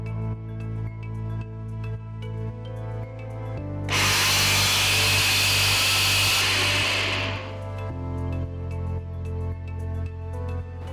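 Sesame seeds, roasted desiccated coconut and cardamom powder are ground to a coarse mixture in a kitchen grinder, whose loud whirring burst runs for a few seconds between quieter rhythmic pulses.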